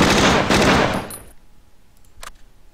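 Machine gun fire from the tactical war game Tigers on the Hunt, one loud rattling burst that cuts off after about a second, followed by a few faint distant shots.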